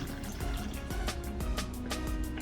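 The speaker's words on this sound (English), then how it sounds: "pour just about a full bottle of water. This is a 16-ounce bottle of water. This is the Publix brand, and I'm pouring" Water from a 16-ounce Publix bottle pours into a blender, a continuous close glugging stream with rhythmic gurgles as air bubbles back into the bottle.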